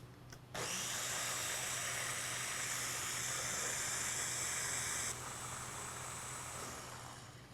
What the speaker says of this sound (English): now that we've got all that in the blender, let's go ahead and blend it till it's smooth and creamy